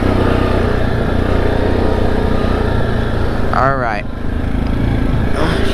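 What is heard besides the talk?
Grizzly ATV engine while riding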